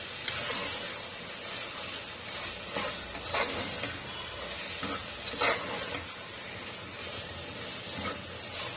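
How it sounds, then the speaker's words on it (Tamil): Tomatoes sautéing with salt in a pan for mutton biryani, with a steady loud sizzle and hiss and occasional scraping stirs throughout, no voices. "இது கூட சேர்த்து நல்லா தக்காளியில நல்லா கரையிற அளவுக்கு நல்லா வதக்கிக்கணும்."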